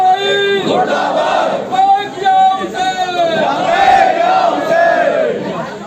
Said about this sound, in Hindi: किस तरह अमेरिका और इजराइल के खिलाफ मुर्दाबाद के नारे लगाए जा रहे हैं